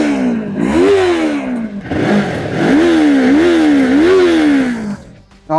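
A Yamaha R3 or MT-03 inline twin motorcycle engine revs up and down several times, rising and falling in pitch, loud and close with no talking.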